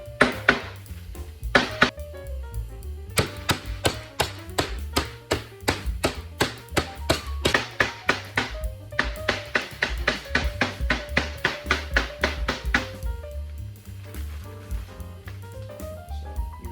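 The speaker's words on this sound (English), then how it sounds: "You're going to want to flatten them out just a bit." Pork chops are pounded flat with a meat mallet on a board in a kitchen, giving close, loud thuds in quick repeated runs, with brief pauses between bursts.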